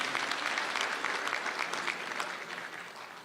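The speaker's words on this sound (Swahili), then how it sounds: "Pigieni makofi." Sustained applause from a large crowd at a Murang'a political rally, steady dense clapping throughout with a slight fade toward the end.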